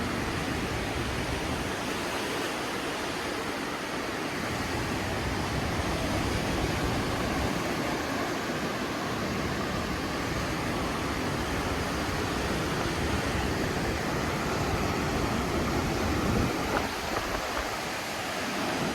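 Surf washes continuously onto Dikwella beach in Sri Lanka, a steady hissing roar of breaking waves with no voices.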